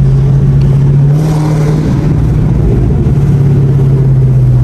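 A widebody Dodge Scat Pack's engine rumbles loud and close from inside the car, a heavy steady drone with slight rises in revs; distinct exhaust pops are not clearly separated.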